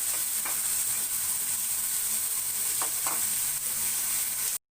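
Potato poriyal sizzles in hot oil in a pan, a loud, steady close-up frying hiss with a few small pops, alone without talk before a sudden cutoff at the end.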